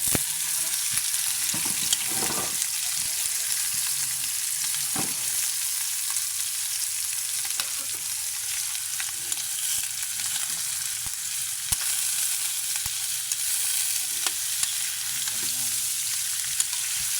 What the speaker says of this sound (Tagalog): Golden brown na siya. Ilalagay na yung karne.